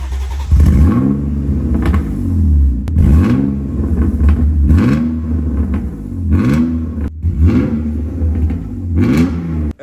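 BMW E39 sedan on its stock exhaust, started and revved hard in repeated deep bursts, each rising and falling, loud and close with a steady idle rumble between blips.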